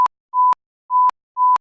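A censorship bleep sound effect: a pure steady tone sounds four times in short bursts, loud and clean against silence.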